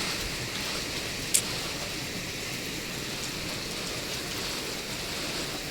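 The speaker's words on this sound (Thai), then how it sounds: "ฝนตก" Steady rain falling, a continuous dense hiss of drops with one brief sharp tick partway through; no one speaks.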